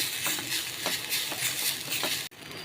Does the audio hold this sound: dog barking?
no